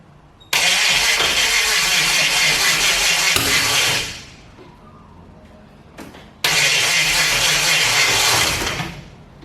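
A HT Holden fitted with a swapped-in V8 starts up, roaring loudly and running for a few seconds before dropping off, then firing again into another loud, sustained run, close by.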